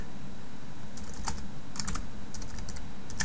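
Keys clatter on a computer keyboard in short irregular bursts of quick taps with brief pauses, close and clear over a quiet room hum.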